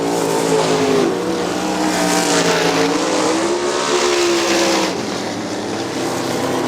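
Sprint cars race on a dirt speedway at Crystal Motor Speedway, including the Waste Management number 81. A dense, continuous engine roar fills the track with overlapping revs rising and falling. It stays loud throughout, easing off slightly near the end.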